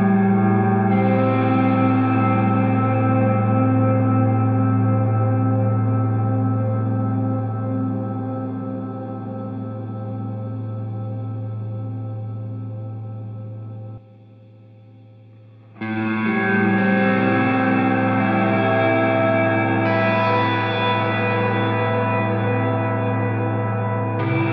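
An electric guitar runs through a Line 6 POD GO with the room, spring and Glitz reverbs all maxed, so loud sustained chords wash into a long shimmering tail, fade into near silence, then a fresh strum blooms again.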